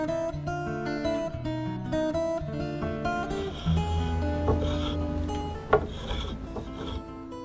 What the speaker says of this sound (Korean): 대패질 소리가 울리는 목공소